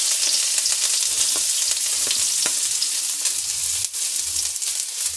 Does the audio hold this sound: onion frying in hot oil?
yes